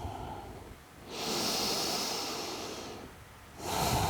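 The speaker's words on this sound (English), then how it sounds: "Hear your breath flow." Slow, deep breathing during a restful yin yoga stretch, with a long airy inhale building over about two seconds, easing off, then another breath starting at the end; close and steady with no talking.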